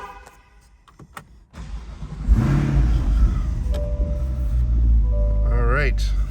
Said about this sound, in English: we'll get in, we'll fire this one up